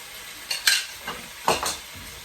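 Pork for ginger pork goes into a hot pan and gets stirred: a few sharp scraping, clattering strokes over a soft steady sizzle, close and fairly loud.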